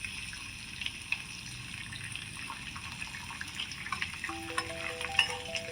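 Curry leaves dropped into hot tempering oil for poha fizz and crackle softly, a faint continuous sizzle with scattered small pops, close but low in level, with no talking.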